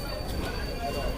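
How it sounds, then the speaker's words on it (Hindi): The Bareilly–New Delhi Intercity Express (14315) pulls out of Bareilly Junction, producing a steady, dense rumble of wheels and carriages heard from on board. "हमारी ट्रेन फ़िलहाल बरेली जंक्शन से अपना डिपार्चर ले चुकी है।"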